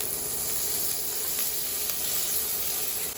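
Onion, ginger, cloves and black pepper frying lightly in butter give a steady, close hiss that holds evenly throughout without a break.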